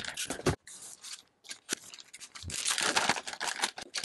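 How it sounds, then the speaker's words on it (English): A LiFePO4 battery in its plastic bag is dragged up out of a cardboard box, with crinkling plastic and scraping rustles in bursts, close and fairly quiet, building to a sustained rustle toward the end. "Now I just grabbed the bag to pull it out of the box."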